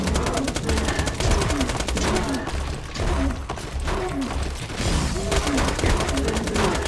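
Rapid gunfire in the video game Borderlands 2, a dense, continuous rattle of automatic shots with thuds and shattering hits, loud and sustained with brief lulls throughout.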